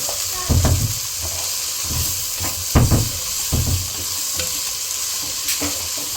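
Ginger garlic paste is sautéed in a pot for chicken biryani made with ponni rice, giving an even frying sizzle broken by several heavier scraping thumps from stirring, with no one speaking.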